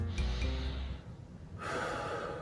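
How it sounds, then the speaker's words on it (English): Deep breaths during a neck and shoulder stretching routine: a slow audible inhale, a pause, then a longer soft exhale, close and quiet. "Couple of deep breaths."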